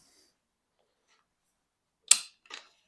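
Two quick metallic clacks in near silence, one sharp and one softer, as the smooth bolt of a Tikka T3x Varmint Stainless rifle is worked back and forth.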